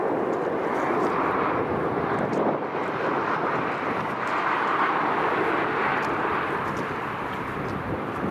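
A Ryanair airliner roars at Newcastle International Airport, its jet engines producing a loud, continuous broadband rumble with wind buffeting the microphone, close and sustained throughout with no talk.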